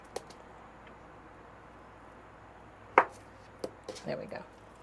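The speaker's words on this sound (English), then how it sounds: "each plantain should give you about 3 nice slices" A knife cuts through plantain on a cutting board in a small Airstream kitchen. A few sharp, separate chops come close together toward the end, after a quiet stretch, and a voice murmurs faintly nearby.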